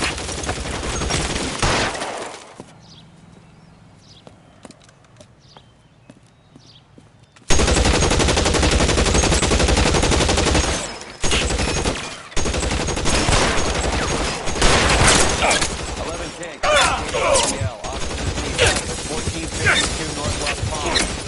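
Heavy bursts of automatic gunfire in the LA Noire video game, loud and sustained after a quiet stretch with faint pops. The shots crackle in rapid volleys, broken by brief gaps, with voices partly mixed in.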